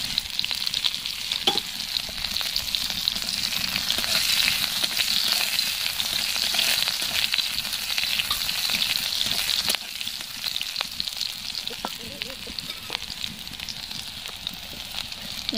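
Chopped ginger and green chili frying in hot white oil give a steady, bright sizzle with occasional spoon stirs and crackles, close and continuous, easing slightly partway through.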